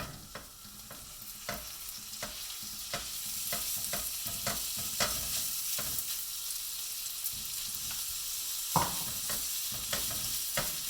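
Ground beef browning with garlic in a pan for tomato meat sauce, a steady sizzle running throughout, broken by repeated clicks and scrapes of a utensil stirring the meat, no voices present.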